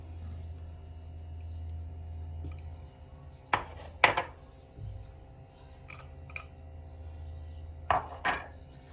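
A few sharp clinks and knocks of flaxseed and cloves dropping into a metal pot, spaced apart over a low steady hum, with no talking.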